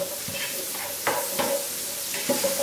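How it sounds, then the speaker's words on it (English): Chopped onion frying gently in melted butter in a pan: a soft, steady sizzle with a few light stirring knocks, quiet and close, with no voices. "just put a little bit of onion, about 1 to 2 onions for 3 cups of rice, which is more than enough, and just fry it gently till golden brown"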